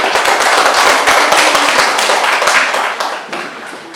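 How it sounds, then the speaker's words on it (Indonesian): A classroom of teachers in training claps for a group presentation, a dense burst of many hands that is loud and sharp at first, then thins and fades toward the end. "kita tepuk tangan"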